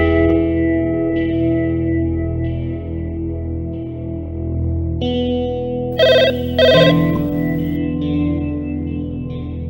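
A telephone rings in two short bursts under a sustained, echoing music-like background in an indoor drama scene.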